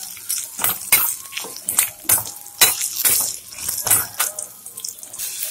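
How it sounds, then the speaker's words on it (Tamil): Ingredients for a chickpea gravy sauté in hot oil as a spatula stirs them in quick strokes, making a close series of rhythmic sizzling bursts that rise and fall about twice a second, with no one speaking. "நல்லா அந்த ஸ்மெல் வர வரைக்கும் மட்டும் நல்லா வதக்கிக்கோங்க"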